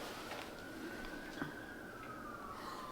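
A fire truck siren wails in the distance, its tone sliding slowly downward across the clip, faint beneath steady outdoor noise.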